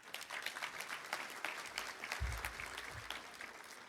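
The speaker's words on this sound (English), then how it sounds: "So give yourselves a round of applause." Applause at a raffle event for the Umbrella Club's committee, a steady crowd clapping heard from a distance at a low level.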